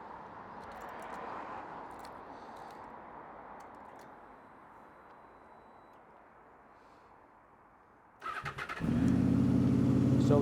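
A cold Honda VFR800 VTEC motorcycle engine cranks and fires near the end, catching into a loud, steady high idle after a quiet stretch of faint background noise.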